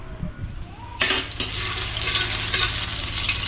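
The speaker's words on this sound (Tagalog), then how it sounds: "Yung panggisa sa bagoong." Aromatics for shrimp-paste bagoong hit a hot pan with a sudden burst of sizzling about a second in, then fry loudly and steadily. Stirring scrapes sit over a low background hum.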